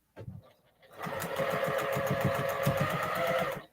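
A sewing machine stitching a seam on a baby cape, starting with a brief click and then running in a fast, steady, close mechanical rattle for about three seconds.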